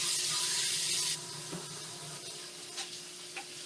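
Water runs from a kitchen tap during handwashing, a steady bright hiss for about a second before the flow cuts out, then faint handling clicks and drips.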